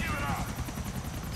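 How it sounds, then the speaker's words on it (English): A helicopter in the video game GTA whirs steadily with a continuous rotor drone, heard beneath game effects and someone talking over it. "there's the chopper"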